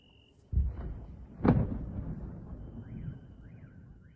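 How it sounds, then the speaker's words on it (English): A distant drone explosion booms twice, a dull thud then a louder blast, rumbling off into outdoor noise with a faint wavering car alarm behind. "you can hear the explosion of the drone right there"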